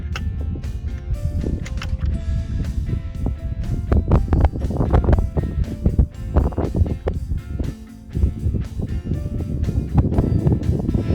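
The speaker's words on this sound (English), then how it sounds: "It's nice in the sun, but the wind is quite persistent" Persistent, cold wind on a sunny mountain path up Beinn Ghlas toward Ben Lawers in Perthshire, Scotland, buffets the microphone in continuous rumbling gusts, with scattered close rustles and thumps mixed in.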